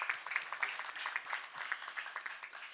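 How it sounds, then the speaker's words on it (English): Scattered audience clapping at a film trailer launch event, individual claps distinct and fairly regular, moderately distant and soft, continuing evenly throughout. "give a round of applause to Mr. Nagaraj Popat Rao Manjule"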